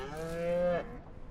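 A single drawn-out moo from a farm cow in the video game Ranch Simulator, fairly close and clear, holds a steady tone before breaking off, with no talking over it.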